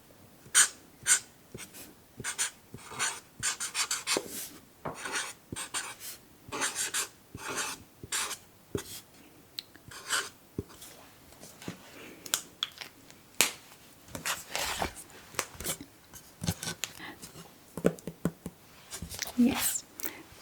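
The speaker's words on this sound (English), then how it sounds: "So let's write it." Pen writing on paper during a Danish lesson, repeated scratchy strokes in quick uneven bursts, close and intimate, interspersed with soft spoken words.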